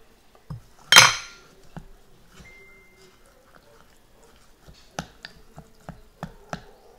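A chopstick knocks and clinks against a container while moringa serum is mixed, giving a loud clatter early on and then scattered light taps with quiet gaps between them.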